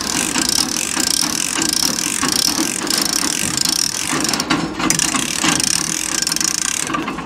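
A winch ratchets loudly as it lifts an entire sheep race system on a farm, its pawl clicking in a rapid continuous stream of metallic ticks close by, with no voices over it.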